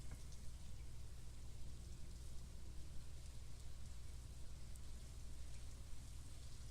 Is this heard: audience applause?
no